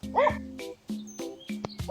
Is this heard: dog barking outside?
yes